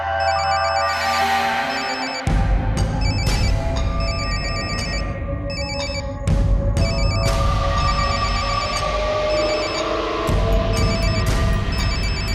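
A telephone rings with an incoming call, repeated bright electronic ringtone bursts in a steady pattern, loud and close, with an ominous low tone underneath at first and no speech.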